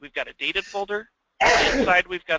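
A single loud, close sneeze bursts out in the middle of a person's steady talking during an indoor training session.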